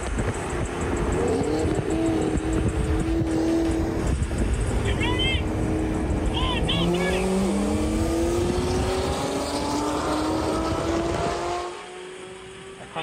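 A Chevrolet Corvette C7 Z06 making about 700 horsepower races and accelerates in playback, its engine note climbing through the gears with shift drops over a loud, continuous roar that eases off near the end.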